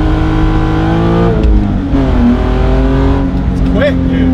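BMW E30 with a swapped S52 engine pulls hard, its rising engine note sweeping up through gears as it accelerates, loud and close from inside the car, with people talking over it.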